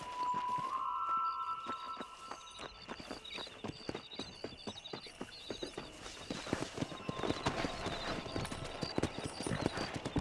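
Horse hooves clip-clop steadily while riding in the video game Red Dead Redemption, a quick rhythmic gait running throughout with a brief whinny near the start, over ambient game sounds.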